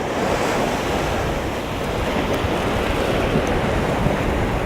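Waves break and wash continuously on a North Sea beach strewn with seaweed, a dense, even roar of surf mixed with gusting wind buffeting the microphone, with no voices.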